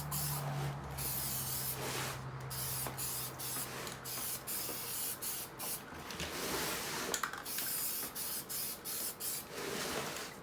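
A spray can hisses as gray paint goes onto a Mercedes Sprinter steering wheel, in repeated close bursts separated by short pauses, with a faint low hum underneath.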